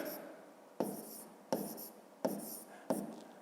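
Hand writing numbers on paper for a fifth-grade math exercise, four distinct pen strokes in a regular rhythm, close and quiet, each a short scratchy burst fading out.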